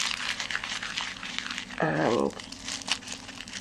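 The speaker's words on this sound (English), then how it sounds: "I will just crumple that up so that I get a nice texture" Wax paper is crumpled by hand at a craft table, giving a crisp crinkling and crackling that rises briefly amid scattered rustles, while a person speaks over part of it.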